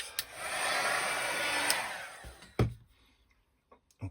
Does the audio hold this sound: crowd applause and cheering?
no